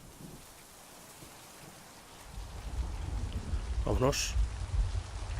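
Rain in the puzzle game MIND: Path to Thalamus falls as a soft hiss that swells into heavier rain about halfway through, with a low rumble beneath it, and someone speaks briefly over it.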